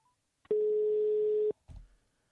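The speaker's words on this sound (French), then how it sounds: "Kevin, je t'appelle." A single telephone tone sounds as a call is placed, one steady electronic beep lasting about a second, followed by a short low rustle of handling noise.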